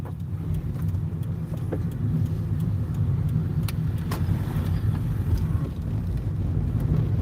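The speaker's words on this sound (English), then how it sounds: "We hear the sound of a new car." A new car produces a steady, low engine and road rumble throughout, with faint scattered clicks and rattles above it and no talking.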